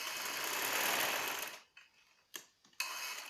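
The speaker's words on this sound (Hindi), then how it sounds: "अब हम शोल्डर की सिलाई लगाएंगे" A sewing machine stitches the shoulder seam of a baby's summer frock in one fast, steady whirring run that stops, followed by two brief bursts of stitching.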